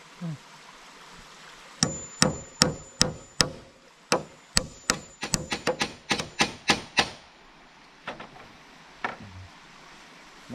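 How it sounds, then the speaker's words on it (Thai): A hammer strikes nails into wood in a quick series of sharp, ringing blows, a brief pause, then a few more spaced taps. "ตอกตะปูเด้งหายไปเลยนะครับ"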